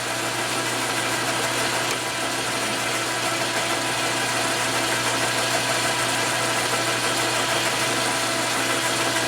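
An electric motor drives a flywheel truing tool for a Milwaukee-Eight crankshaft. It runs as a steady, loud mechanical hum with a constant low tone and vibration, unchanged throughout and with no voices.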